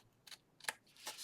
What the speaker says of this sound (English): we'll have to round it with the scissors.